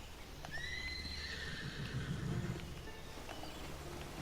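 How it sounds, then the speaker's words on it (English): A horse whinnies once, loud and high, over a steady background rumble with faint hoof clops, in the video game Tiny Tina's Wonderlands. "And I'm hearing horses."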